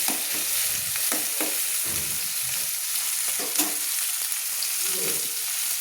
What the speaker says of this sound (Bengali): আমি টমেটোগুলো তেলে লাল লাল করে ভেজে নেবো